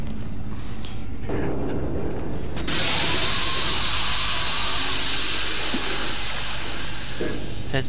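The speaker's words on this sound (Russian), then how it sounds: "Опять где-то кран затравил." A leaking valve hisses steam in the Outlast horror game's sewer level, bursting in loudly partway through and then holding as a steady, close hiss over low rumbling ambience.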